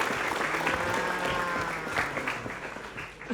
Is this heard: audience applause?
yes